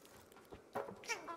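A purple cat in Stray gives a short, soft meow that rises at the end, faint and close, in a brief quiet moment.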